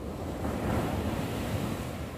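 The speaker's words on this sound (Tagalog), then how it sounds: "Nandito ako ngayon sa tabi ng dagat." Sea waves washing onto the shore with wind, a continuous broadband surf wash with gusty wind rumble on the microphone, steady and fairly close.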